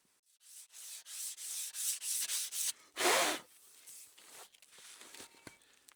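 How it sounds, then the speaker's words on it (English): Rust is sanded off a GMC Yukon brake rotor in quick rhythmic strokes, a close, scratchy rasp repeating about twice a second, then one long hard scrub followed by lighter, scattered scuffs. "I'm going to go clean the rotor up off camera."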